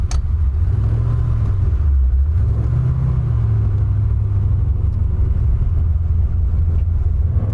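A 650hp 1967 Chevy Camaro party car rumbling with its engine revving, a loud, deep continuous growl with a couple of rising and falling rev swells, heard from inside or close by.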